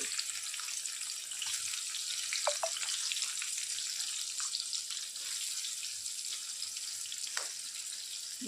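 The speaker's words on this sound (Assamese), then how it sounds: "এইখিনি মই কম ষ্টিমত ভাজি ল'ম।" Chopped onions and crushed garlic fry in a pan over a low gas flame, giving a soft, steady sizzle with faint crackles and a few stirring clinks, no voices.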